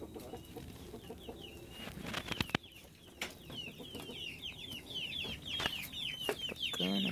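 Roosters cluck repeatedly in a backyard chicken coop, with busy overlapping chirpy calls running steadily and fairly close throughout.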